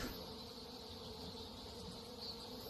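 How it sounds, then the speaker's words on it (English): A bee drones in a steady, faint buzz, continuous and unbroken throughout. "Is that a bee in it?"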